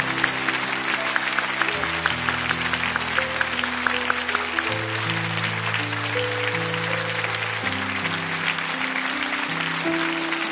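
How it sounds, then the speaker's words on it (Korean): A church congregation at an anniversary service applauds in a long, loud, even round of clapping while sustained organ or keyboard chords play underneath. "우리 한 번 더 큰 박수로 축복합니다"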